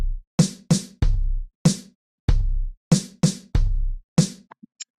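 A drum loop built in BandLab plays punchy kick and snare hits in a steady pattern, about ten dry, close, loud strikes with silence between them.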